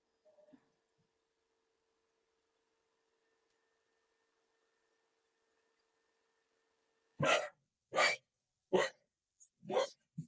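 Petra the dog barks five times in a quick, fairly loud series after a long near-silent stretch, with a faint voice at the very start.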